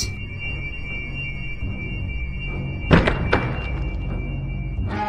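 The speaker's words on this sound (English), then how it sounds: "The crash of the heavy door on the rock floor below reverberates through the ancient castle." A heavy dungeon door crashes onto a rock floor in an ancient castle, landing as a loud, reverberant thunk with a second impact just after, over a steady low hum.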